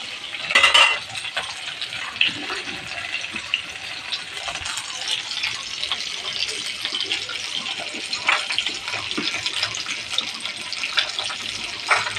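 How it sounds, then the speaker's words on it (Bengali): Fish frying in a pan for a fish curry, giving a steady, close sizzle with light stirring and a brief louder scrape near the start; no speech. "মাছগুলো খুব সুন্দর ভাজা হয়েছে"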